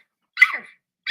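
A person imitates a dog, giving one harsh, barking yelp followed by the start of a second after a short pause, close and loud with no other sound.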